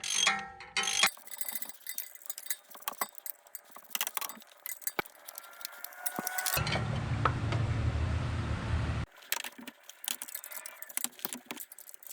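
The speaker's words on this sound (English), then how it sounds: "Okay, got the tensioner bolt loosened." A ratchet with a T50 Torx bit loosening a tensioner bolt on a 1994–1997 7.3 Powerstroke engine, quick rapid clicking bursts close up, with a steadier mechanical whir in the middle.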